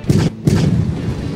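Two loud, booming tank cannon shots in the Tanki Online video game, each a heavy low thump about a third of a second apart, followed by a rumbling tail.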